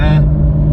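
A 2019 Porsche 911 driving in sport mode gives a loud, close, steady low engine drone with a strong deep hum. A brief higher harmonic whine at the start fades out.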